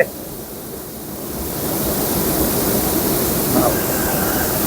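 A waterfall's continuous rushing roar of falling water, steady and broadband, swelling slightly after the first couple of seconds.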